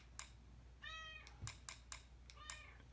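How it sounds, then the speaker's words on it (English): A cat meows at a device during setup of an Amazon Fire TV, with several short sharp clicks and taps around two distinct mid-pitched meows, close by and alone over a low hum. "the cat is going to meow at you"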